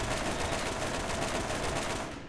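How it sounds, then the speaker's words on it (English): Rapid gunfire in the Borderlands video game, aimed at a fire pterodactyl, rattles continuously and loudly for a couple of seconds with no talking. "I'm gonna shoot it with fire."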